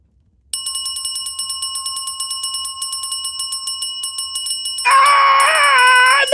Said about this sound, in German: Löse 100 Mal die scheiß Glocken aus.